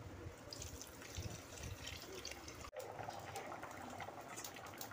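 Water is poured into a cooking pot of shingi fish curry with Kashmiri chilli, ground cumin and chillies. The trickle is faint and steady, with a brief cut midway.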